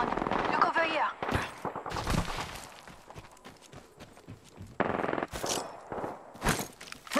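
Apex Legends gunfire crackling in sharp, broadband bursts with a steady background of game ambience, as voices call out in the game over the shots.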